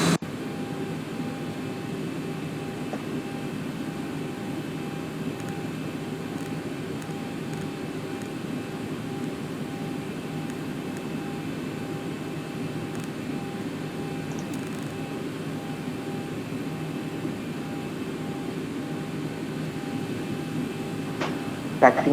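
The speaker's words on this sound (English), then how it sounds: "taxiing to the runway" A steady airliner engine drone from a Fly Dubai jet taxiing to the runway at Dubai International Airport in a flight simulator, an even continuous hum with faint tonal whine and no break.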